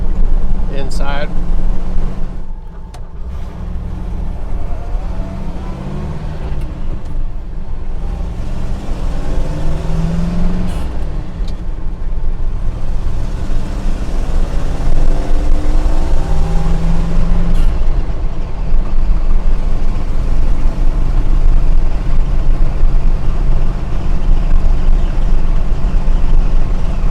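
Engine and road noise inside the cabin of an insulated International Scout on the move, a steady loud low rumble with wind, lasting throughout while someone talks over it.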